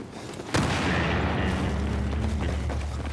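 In Battlefield 4, a sudden heavy boom breaks out, followed by sustained rumbling gunfire and distant blasts that roll on without a pause.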